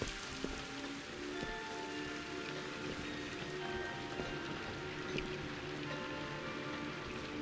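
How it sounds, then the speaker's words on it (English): Steady rain patters inside a car in the video game Viewfinder, a faint, even hiss of drops with occasional soft taps, continuous throughout with no voices. "kind of interesting how it rains inside the car."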